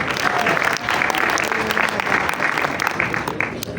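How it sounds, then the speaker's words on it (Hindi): A crowd applauds steadily, dense clapping filling the whole stretch at a fairly loud, even level. "एक तालियां बजा दें जरा"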